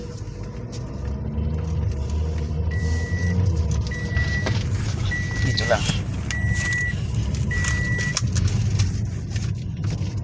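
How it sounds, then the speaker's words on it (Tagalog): A Toyota Vios engine with a low-power fault hums steadily and is revved while driving, the drone continuous beneath close conversation, with occasional electronic beeps over it. "Ramdam mo yung ugong pag pinitik mo yung gasolina."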